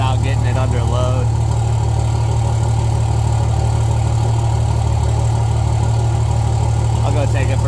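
Cummins diesel truck idling with a loud exhaust, a deep, steady, close rumble that runs unbroken throughout, with someone talking over it near the start and end.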